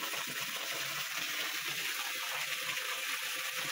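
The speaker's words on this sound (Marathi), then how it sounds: "ती पाणी ना सगळं असं खाली ह्या झाडावर पडतंय आणि इथून असं फरशीवरती येतंय" Water spilling steadily off a roof slab onto a tree and down to a tiled floor, a continuous broad splashing rush heard close and alone throughout.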